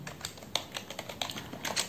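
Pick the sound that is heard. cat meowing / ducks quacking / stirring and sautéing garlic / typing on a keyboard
typing on a keyboard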